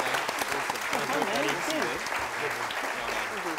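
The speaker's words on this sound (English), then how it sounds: "You should join me in thanking by a massive round of applause our fabulous panelists" Audience applause for a panel of speakers at a community event, a sustained dense wash of clapping filling the room while voices carry on underneath.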